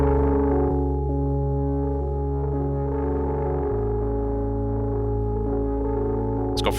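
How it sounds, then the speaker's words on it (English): Saturated, distorted hip-hop beat made by boosting a plugin's input and lowering its output, with thick buzzing bass and sustained gritty tones changing pitch in steps; loud and steady, ending in a short crackle, with no voices. "if you just boost the input and turn the output down, usually 9 times out of 10, it creates a cool saturated or distorted effect."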